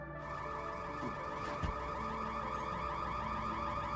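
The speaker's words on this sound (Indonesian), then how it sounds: "terdengar suara alarm kebakaran di mana Feby lupa mematikan pemanggang" A loud, continuous electronic fire alarm blares steadily with warbling tones, filling the whole stretch with no pauses.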